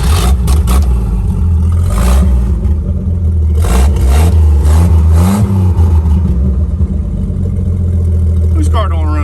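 A bagged 1955 Chevy's engine cranks, catches and revs up loudly, with clattery bursts and rising, falling engine pitch, then settles into a rough idle as voices break in near the end.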